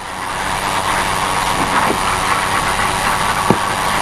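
A stock car engine idles steadily at a North Carolina track, a loud, rough, continuous drone close by, with faint knocks and a brief click toward the end.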